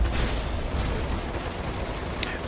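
Spaceship guns fire in a Star Citizen dogfight from an Origin 300i touring ship. The shots come as a steady, rapid stream of gunfire, dense and continuous throughout.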